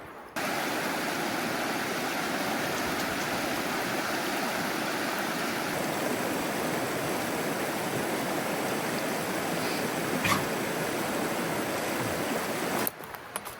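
The North Fork of the Clearwater River in Idaho's Clearwater National Forest rushes in a steady, dense wash of flowing water, loud and unbroken for the whole stretch, with no voices over it.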